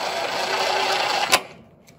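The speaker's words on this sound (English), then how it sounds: "we're going to put in this screw, wood screw, on the bottom in one spot." A drill drives a wood screw into the bottom baseboard of a horizontal fence, a loud, close whirring buzz that runs steadily and stops abruptly with a sharp final click.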